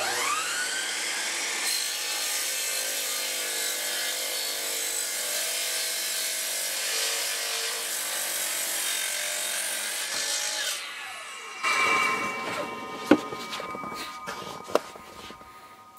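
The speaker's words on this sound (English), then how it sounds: "I've ran my chop saw at the same time as the air compressor." A chop saw cuts through material while running from a VTOMAN Jump 1500X portable power station, with a loud sustained whine for about eleven seconds, then the blade spins down amid sharp clunks and rattles.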